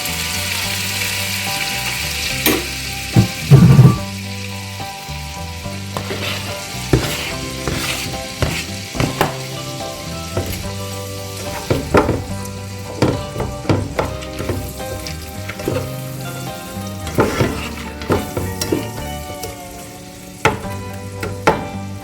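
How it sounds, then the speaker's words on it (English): Onions fry in a pan, cooked until golden, giving a loud steady sizzle for about twenty seconds, punctuated by frequent clattering stirs and scrapes of a utensil. "So I'm just going to cook these till my onions are done."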